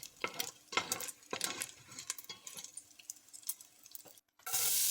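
Bacon strips frying in a soup pot give a steady crackling sizzle, with intermittent clinks and scrapes of a utensil stirring, ending in a brief pause and then a louder burst of hiss.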